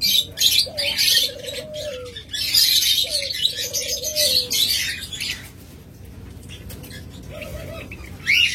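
A lively chorus of small birds chirping and chattering nearby, with repeated trilling calls rising over a constant high twittering background.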